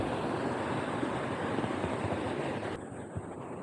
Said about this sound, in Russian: Вода падает на уровень ниже.